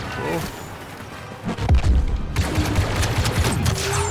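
Rapid bursts of sci-fi blaster fire in Star Wars Battlefront II crackle and boom in quick succession, dense and loud, with a voice talking over the shooting.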